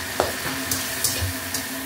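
Pakbet vegetables with soy sauce and crushed pepper sizzle in a pan while being stirred, a steady close fry broken by several light scraping strokes.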